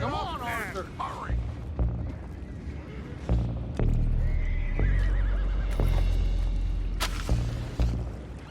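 A horse whinnies loudly at the start, followed by heavy hooves and rumbling wagon movement in a Red Dead Redemption 2 scene, with voices talking over the chaotic, pounding action.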